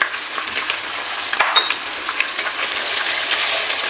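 Chicken frying with garlic ginger paste in a pan for chicken karela, a bright steady sizzle near and fairly loud, with a few clinks of a utensil on the pan and no speech.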